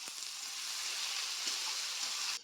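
Chopped onion sizzles steadily in hot oil with a dried red chilli and bay leaves, for a fish and eggplant curry; a close, dense, even frying hiss runs unbroken until it cuts off at the end.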